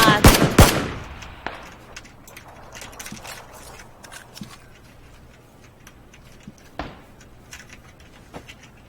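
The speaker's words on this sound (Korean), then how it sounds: "또 다른 쪽에 총소리 들렸던 같은데." A sharp cluster of loud gunshots opens, then sparse distant shots and clicks scatter over several quiet seconds, in the video game PlayerUnknown's Battlegrounds.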